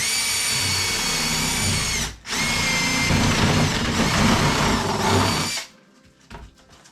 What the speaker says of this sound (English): I'm drilling into the deck